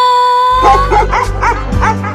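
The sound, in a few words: dogs barking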